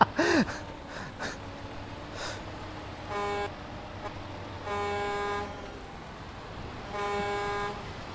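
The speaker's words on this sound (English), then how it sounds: "Start honking, maybe that'll help." A truck horn in Snowrunner sounds three times, each blast lasting about a second and spaced apart, after a short gasp-like noise at the start, with a low engine idle underneath.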